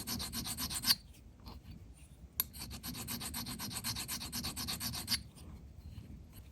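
A hand file rasps in steady back-and-forth strokes against a raised burr on a jaw of an Albrecht drill chuck, close and fairly quiet, with brief pauses between bursts.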